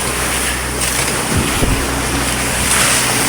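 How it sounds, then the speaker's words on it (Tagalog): Big ocean waves at sea around a boat, loud continuous wash and surf with strong wind buffeting the microphone, a couple of heavier splashes midway. "Laki ng alon."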